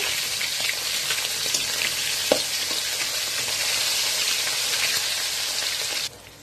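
Hilsa fish roe fries in hot oil, a dense, loud, even sizzle close by that holds steady for about six seconds with a small clink partway through before dropping away.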